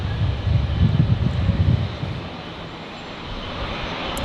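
A Jetstar airliner takes off from Brisbane Airport bound for Melbourne, a distant jet engine roar with gusty wind noise that swells, then eases to a steady rumble.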